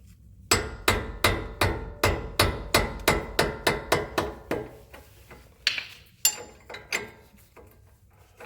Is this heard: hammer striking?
yes